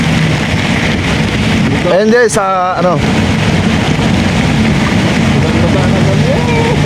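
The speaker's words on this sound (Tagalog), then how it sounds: "Basang-basa na kami sa ulan, guys." Heavy rain pours down in a steady, loud, even hiss throughout, with a short stretch of someone speaking partway through.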